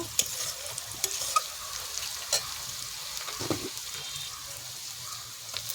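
Onion with ginger, garlic and green chilli paste frying in a pan, a continuous close sizzle broken by repeated spatula stirs and scrapes.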